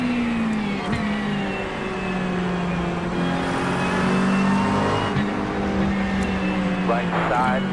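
GT3 race cars battling side by side at Sebring in iRacing, a continuous droning engine note that rises and falls with shifts and another car alongside, while someone talks over it.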